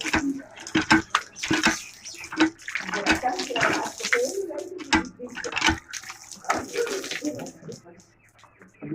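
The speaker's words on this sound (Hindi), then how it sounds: "मैं यहाँ पर चला रही नल का, और ये अभी मुँह धोएंगे" Cold water gushes from a village hand pump tap at a rural Sindhi wedding home in Pakistan while a face is washed, splashing irregularly and close, under a voice and birds in the background.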